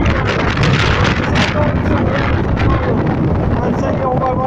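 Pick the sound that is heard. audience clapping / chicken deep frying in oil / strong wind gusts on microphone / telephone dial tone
strong wind gusts on microphone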